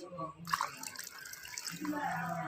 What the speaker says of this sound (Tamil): இப்போ தேவையான அளவு தண்ணி ஆட் பண்ணிக்கலாம்